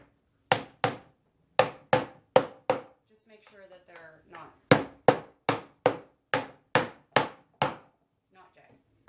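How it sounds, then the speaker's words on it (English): A hammer pounds down cut-off nails in pallet wood wall decor with loud, close, evenly spaced strikes: a run of about five blows, a short spoken pause, then about seven more. "once you get them cut off, you take a hammer"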